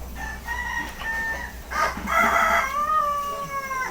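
Chickens and roosters in a backyard bird-keeping setup: a rooster crows in drawn-out calls and clucking mixes in, loud and close over low background noise.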